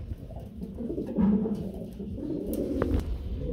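Pigeons coo steadily at a pigeon farm, low rolling calls close by with soft murmuring in the background and no talking.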